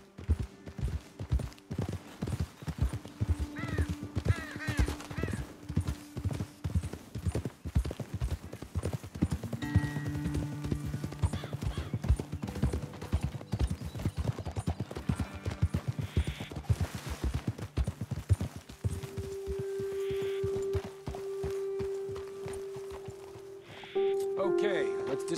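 Horses clip-clop steadily along in Red Dead Redemption 2, a rhythmic run of hoof beats with a voice talking over them and some background game sounds.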